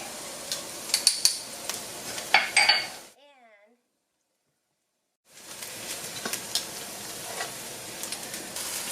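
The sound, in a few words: garlic sizzling as it is sautéed in a pan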